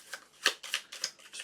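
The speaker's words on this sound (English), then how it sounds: "I guess we should also shuffle these cards" Board game cards from the Ezra & Nehemiah game being shuffled, a quick series of five or six crisp riffling bursts, close and alone.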